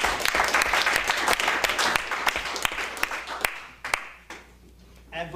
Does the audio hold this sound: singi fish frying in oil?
no